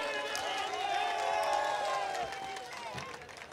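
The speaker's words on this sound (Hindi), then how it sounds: "जोरदार तालियां बजाइए" A mushaira audience claps and cheers for a poet, a dense crowd noise of hands and voices that swells and then eases slightly, with a tonal hum running through it.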